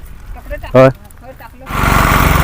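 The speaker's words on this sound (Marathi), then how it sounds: "तर मित्रांनो आता आपण ट्रॅक्टर चालू केला ना मयूरने" A farm tractor's engine starts up for ploughing a field, turning over and then settling into a loud, steady rumble for the last second. Talk and a short loud tone come before it.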